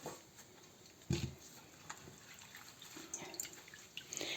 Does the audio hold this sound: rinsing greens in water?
yes